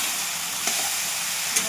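Ridge gourd pieces go into a spice mix frying in a pan, giving a steady broadband sizzle with a couple of faint clinks, no voices.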